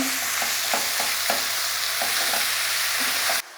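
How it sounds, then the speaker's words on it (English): Ground beef stirred into golden frying onions for beef chilli fries, a steady close sizzle with repeated scraping strokes of a utensil against the pan, no voices, ending abruptly. "you want to add your beef in there and just start to mix your beef in there."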